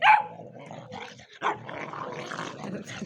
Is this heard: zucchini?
no